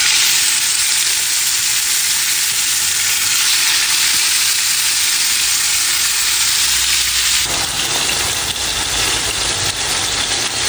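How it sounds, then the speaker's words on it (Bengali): Shing fish (stinging catfish) coated in turmeric and chili frying in a pan, giving a dense, loud, continuous sizzle close by, with a low hum underneath and no voices. "ওইদিকে হচ্ছে আমার শিং মাছ ফ্রাই"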